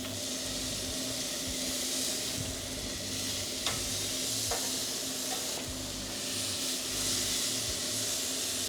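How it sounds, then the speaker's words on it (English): Pork belly sizzles steadily over the broil-zone burners of a grill, a continuous close crackle and hiss with a few faint clicks and no voices. "I'm gonna throw them right over those burners where the broil zone is"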